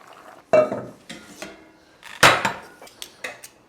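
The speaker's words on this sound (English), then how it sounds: "I still need to get all these shells out of those mussels" Cooked mussel shells clink and scrape against a pot or bowl as the meat is picked out, a scattering of irregular knocks and rattles, close and moderately loud with quiet gaps between.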